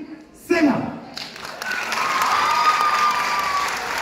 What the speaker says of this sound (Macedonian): Ајде дајме аплауз ако успеам!